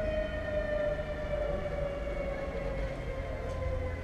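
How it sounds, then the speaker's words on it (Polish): A steady, loud warning siren wails before a factory chimney demolition in Kwidzyn, Poland, holding a sustained tone with no break. "Będzie syrena."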